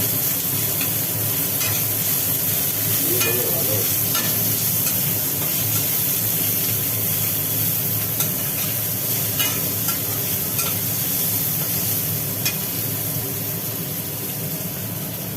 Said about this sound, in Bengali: পেঁয়াজটা একটু কাটা করে এর মধ্যে দিয়ে দিচ্ছি